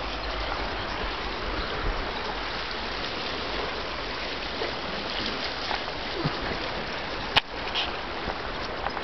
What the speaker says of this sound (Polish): i patrzeć na szumiącą wodę